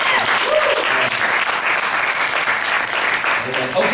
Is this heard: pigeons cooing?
no